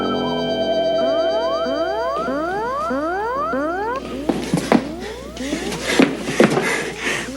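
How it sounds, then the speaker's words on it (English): An electronic alarm gives a loud sequence of repeated rising sweeps, which gives way to clattering and thumping noises. "Sound the alarm."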